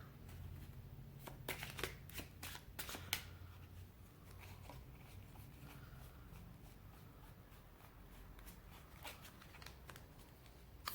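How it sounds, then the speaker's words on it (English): Tarot cards shuffled by hand in a series of crisp riffles and bridges, loud bursts clustered early and then a steady softer shuffling that continues throughout, with no talking. "I'm going to pull a couple cards from this deck."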